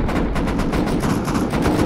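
Rapid automatic gunfire and explosions fill a video game raid with fire turrets and HV rockets, loud and dense throughout with no pauses.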